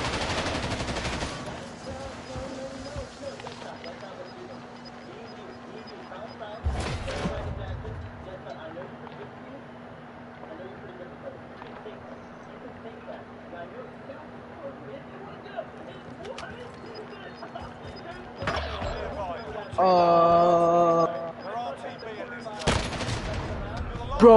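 Gunfire in a multiplayer shooter video game comes in short, loud bursts spread across a quieter stretch, with players' voices chatting over the game sounds.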